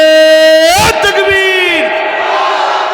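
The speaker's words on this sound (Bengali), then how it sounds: "জোরে একটু তাকবীর দেন তো" A sermon crowd answers a speaker's call with a loud massed shout of takbir, the raised voices swelling in at once, close and strong after a sustained sung tone.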